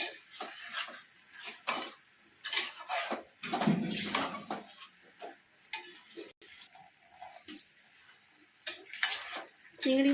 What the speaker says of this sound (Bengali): দিয়ে ভালো করে নেড়ে নিলাম